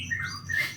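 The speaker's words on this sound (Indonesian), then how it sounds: "ternak kenari BF yang ada di belakang saya ini" Canaries in breeding cages at a canary farm give quick, close, bright chirps and squawks in a brief burst of two rising calls.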